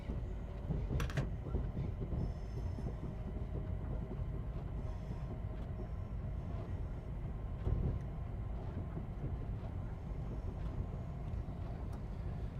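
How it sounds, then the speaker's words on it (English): A Class 700 electric train runs steadily in Train Sim World 4, a continuous low rumbling roll with faint rail clatter and a brief high squeal near the start, loud and close throughout with no talk. "this sounds like the Class 700"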